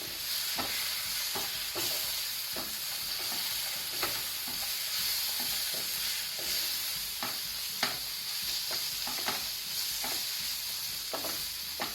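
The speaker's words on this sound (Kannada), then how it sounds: "ಸ್ವಲ್ಪ ಒಂದು 30 ಸೆಕೆಂಡ್ ಫ್ರೈ ಮಾಡ್ಕೊಳ್ಳುವ ಇದು ಮಸಾಲನ್ನು" Prawn masala fries in a pan on low gas, a constant soft sizzle broken by regular scraping knocks of a spoon stirring it, close and unaccompanied by speech.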